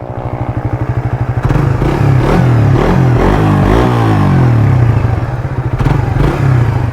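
A Suzuki GSX-R150 motorcycle engine idles with a steady, chugging pulse, then revs up into a louder, continuous roar close by, with some mechanical clatter.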